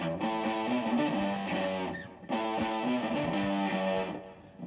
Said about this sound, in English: for that riff, you want to put on some distortion or some fuzz or a blues driver or something